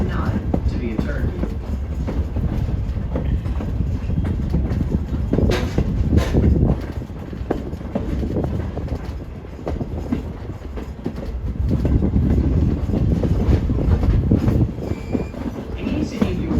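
A Strasburg Railroad train rolls along the rails at the Pennsylvania heritage line, a steady loud rumble with rhythmic wheel clatter and swelling bursts of track noise throughout.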